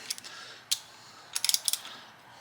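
T40 bolts are backed out of motorcycle handlebar clamps on a Husqvarna Norden 901, a few faint isolated metallic ticks followed by a quick burst of ratcheting clicks, close by and quiet, with no talk.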